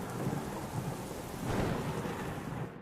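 Heavy rain pours steadily while deep rolling thunder rumbles underneath, swelling to a stronger boom around the middle.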